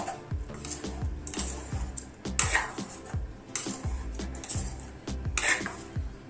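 A chicken curry being stirred in a pot for a village-style dish, with repeated clanking and scraping of a utensil against the pot in a steady rhythm, close and moderately loud.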